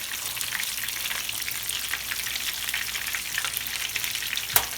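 Fish fries in a pan over medium heat with a constant bright crackling sizzle, close and steady, capped by a sharp clink near the end.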